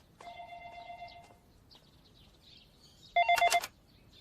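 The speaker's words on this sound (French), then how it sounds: "Je vais répondre au téléphone." An old-style telephone bell rings indoors in two bursts, a longer trill followed by a louder, rapid jangling ring, with no talk over it.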